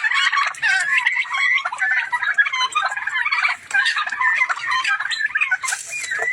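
A flock of domestic turkeys on a small farm gobbles and chatters continuously, overlapping high warbling calls close by.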